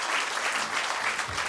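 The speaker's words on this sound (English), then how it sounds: "I deserve a clap." Quick round of audience clapping for a speaker at a talk, dense and even across the short stretch.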